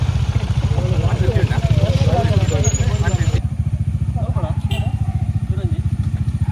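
A motorbike engine runs close by with a steady, rapid putter that holds even throughout, while a person talks over it for the first half.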